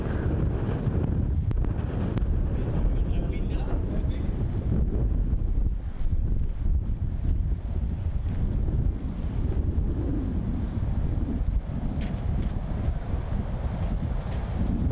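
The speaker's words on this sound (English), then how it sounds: "you can see that wind ripping through the flags there as Rhino steps up to the tee." Strong gusts buffet flags at an outdoor disc golf tee in Melbourne, a steady loud roar of wind noise pressing on the microphone throughout, with no voices.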